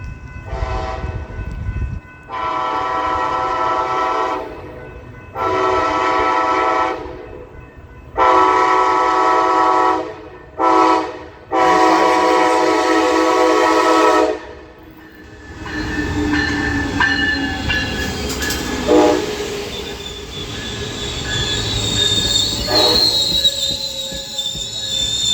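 Coaster commuter train 645 passes northbound at Encinitas, loud and close. Bursts of strong horn blasts with pauses come first, then a drawn-out rumble of wheels with squealing steel.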